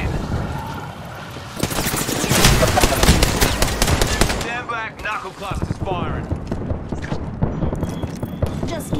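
Rapid bursts of gunfire from a cluster weapon in Apex Legends, loud clattering volleys for several seconds followed by crackling, mechanical rattles, with a voice speaking partly under it.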